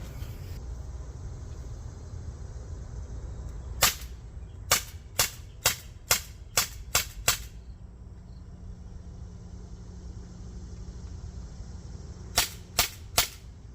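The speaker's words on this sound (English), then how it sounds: "Well, it fired all the rounds. Every one of them shot out." A CO2-powered gun, stored long-term with a full charge, fires a quick run of seven sharp pops, then three more after a pause, crisp and close over a quiet background hum.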